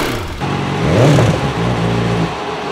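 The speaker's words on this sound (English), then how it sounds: "if you listen to that video, it sounds exactly the same sound our engine was making" A failing motorcycle engine runs and revs up briefly before settling back to a rough, steady drone, heard as playback from a video with no talking.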